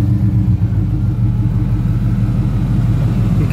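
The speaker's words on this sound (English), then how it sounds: "You can hear the blower running." Blower fan of the air conditioning in a 1999 Jeep Grand Cherokee running with a newly installed resistor, a steady low whooshing drone over the idling engine, constant and close throughout.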